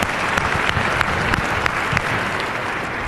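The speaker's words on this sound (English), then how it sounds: "let's give Marianne a round of applause" An audience breaks into applause for a presenter, many hands clapping in a dense, lively burst that stays loud and fairly close for the whole stretch.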